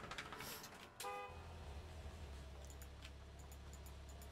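In the Gas Station Simulator video game, a car horn gives a short honk early on, faint and a little distant, before a low steady engine rumble carries on alone.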